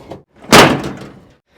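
Door of an old 1946 International truck swings shut and hits the inside railing with one loud, close slam, a softer tap just before it.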